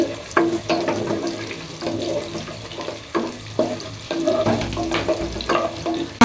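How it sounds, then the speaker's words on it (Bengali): Chopped onion, green chili and garam masala fry in hot oil, crackling close up while a utensil scrapes and clatters against the pan in uneven bursts. "দিয়ে দিলাম পেঁয়াজ, কাঁচামরিচ, গরম মশলা, তেলের মধ্যে ভেজে নিব"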